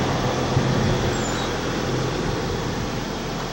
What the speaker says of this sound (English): we have to move because we have this giant truck coming